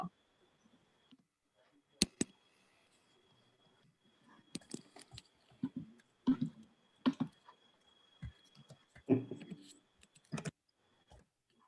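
Scattered clicks and short bursts of typing on a computer keyboard, entering text into an online event platform's test session, fairly close and moderately quiet, with irregular pauses between keystrokes and no talk.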